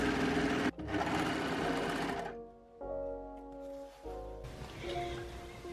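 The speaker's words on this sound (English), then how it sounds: "And I'm overlocking the top of the bottom edge piece." An overlocker runs along the edge of bedsheet fabric in two fast, loud whirring bursts, stops briefly with a faint mechanical hum between them, then starts again for a final run, up close with no talk.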